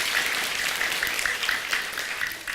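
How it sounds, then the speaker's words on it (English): A young audience of children applauds steadily, a dense, even wash of many hands clapping at moderate distance, with no talk over it. "Everybody give yourself a round of applause. Come on, real loud."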